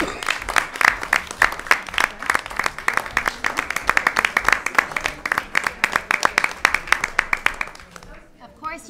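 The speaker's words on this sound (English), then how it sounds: "You can give them a round of applause." Applause at a school committee meeting, a round of clapping from the room after birthday wishes to a coach, steady and moderately loud, thinning out at the end.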